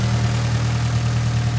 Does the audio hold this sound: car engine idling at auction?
yes